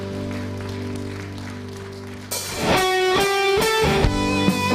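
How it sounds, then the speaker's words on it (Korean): A church congregation at a Sunday worship service breaks into applause. The clapping turns rhythmic and mixes with loud instrumental music that starts partway through. "우리 하나님께 감사와 영광의 박수 올려드리며 나아가겠습니다."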